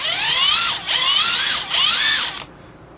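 A Klein Tools BAT20CD compact battery impact driver runs free at variable trigger speed, whining loudly and close in three rising-and-falling bursts before cutting off.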